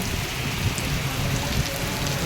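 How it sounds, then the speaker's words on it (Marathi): Heavy rain falls steadily at Shivaji Park in Mumbai, a dense, even rush of drops hitting surfaces all around, with no voices. "पाऊस जाम लागतं"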